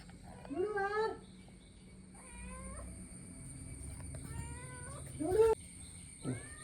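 A cat meows several times, short plaintive cries spread out over a few seconds, fairly close, with a steady faint background hum.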